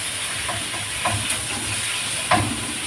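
Ground beef fries in a pan with a steady, dense hiss and sizzle, broken by a few soft scrapes or pops, close and continuous for about three seconds.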